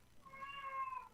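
A house cat yowls in a hallway, one drawn-out, wavering meow lasting about a second, heard from a short distance and fairly faint, with no one talking.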